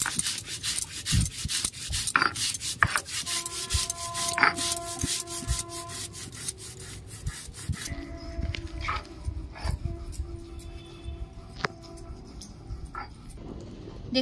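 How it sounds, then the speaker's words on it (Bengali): Poppy seeds are ground into paste on a grinding stone, giving a rhythmic scraping and rubbing of stone on stone in repeated strokes, with household sounds and faint voices in the background. "আমি পোস্তটা বেটে নিচ্ছি।"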